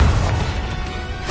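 Blasting spell explosion from a Harry Potter video game: a loud booming burst that hits hard at the start, then rolls on as a rumbling, gradually fading blast.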